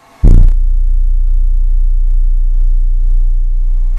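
After a sharp thump, a Deaf Bonce Apocalypse SA-272 subwoofer in a car plays a deep, steady bass tone around 30 Hz, droning loudly and continuously, a low throbbing hum that fills the space without pause.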